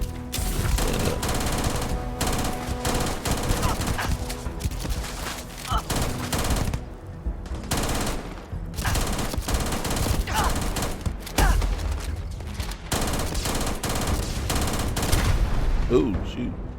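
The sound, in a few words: gunfire from enemies in the video game Starfield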